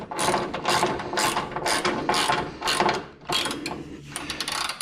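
A ratchet wrench clicks in repeated bursts while torquing the front lower control arm bolt on an Acura RSX suspension during a bushing install, close and loud, with short pauses between strokes.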